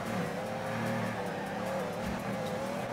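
Nissan Silvia S14 drift car holding a steady, loud engine drone with tire noise throughout a tandem drift run, a continuous close roar with no talk.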